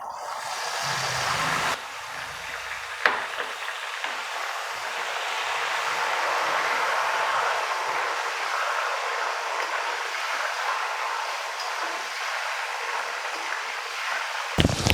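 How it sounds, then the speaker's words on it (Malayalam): Salt water hits hot oil in which Kerala banana chips are frying on high flame, setting off a loud, steady sizzling hiss. The sound surges when the water goes in and then roars on unbroken for many seconds. "ഇനി നമുക്കിതിലേക്ക് നമ്മുടെ ഉപ്പുവെള്ളം ചേർത്ത് കൊടുക്കാം."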